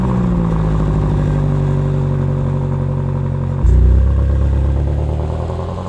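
A BMW M8 Gran Coupe with a 4.4-litre twin-turbo V8 revs loudly, its tone holding steady before a sharp step up in pitch and volume near the end, then easing off.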